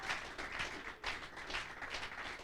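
A church congregation breaks into dense, continuous applause, many hands clapping at once in a steady, close roar with no talking over it.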